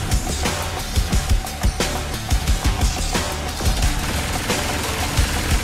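Rapid gunfire from a gun in the Saints Row IV video game, a steady string of loud, close shots in quick succession with rumbling background action and no talking.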